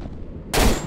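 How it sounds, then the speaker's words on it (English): A burst of assault rifle fire in the horror video game Cry of Fear breaks out loud and sudden after a moment of quiet, with no voices. "Oh, sweet assault rifle."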